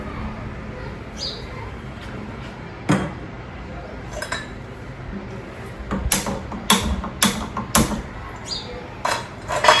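Kitchen dishes and cutlery clink and clatter as a pot is set on a gas stove, with sharp metallic knocks scattered over a steady background hum, growing busier toward the end.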